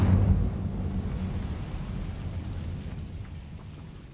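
A fire spell bursts in Hogwarts Legacy: a loud whooshing flare at the start that settles into a rumbling, crackling roar of flame fading over a few seconds, with no talking.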